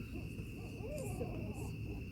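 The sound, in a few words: owl hooting, an angry territorial call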